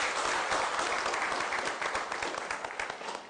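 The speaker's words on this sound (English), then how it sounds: "Let's give him another round of applause." Sustained applause from a conference audience after a keynote address at a national education conference, dense steady clapping throughout, fairly even in level and slowly tapering toward the end, with no speech over it.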